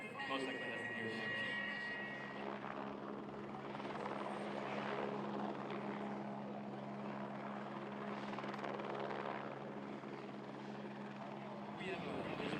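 Lockheed C-5 Galaxy transport flying past at an airshow, a steady loud roar of jet engines with a whining tone that holds throughout, with people talking over it.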